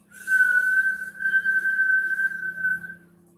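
Breath drawn in through lips rounded like a whistle makes one steady high whistling tone lasting about three seconds, close and clear, with no talking.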